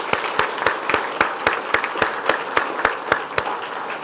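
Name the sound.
applause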